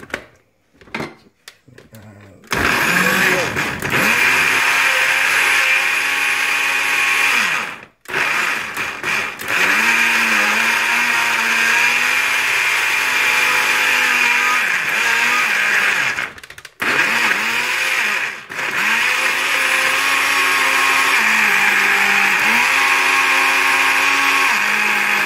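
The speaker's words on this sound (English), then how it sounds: "so let's go and blend it" A blender whirs loudly and steadily blending banana and apple into a smoothie, its motor pitch shifting as it churns, with a few brief pauses between bursts.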